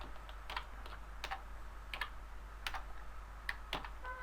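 Keys clack on a computer keyboard in short bursts of a few strokes each, spaced out over a quiet background hum, with no speech.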